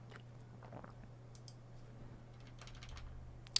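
Typing on a computer keyboard, soft close clicks and taps in irregular short bursts over a faint steady hum, no talk.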